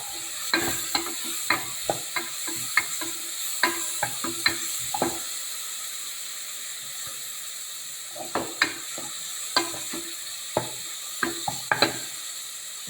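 Finely chopped onion frying with whole spices such as cloves and star anise in a pan for a vegetable masala curry. A steady close sizzle and hiss runs throughout, broken by irregular scraping stirs, with no one talking.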